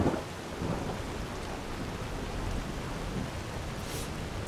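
Heavy, steady rain pours in the Skyrim video game while thunder rumbles low and continuous beneath it, loud and unbroken throughout with no voices.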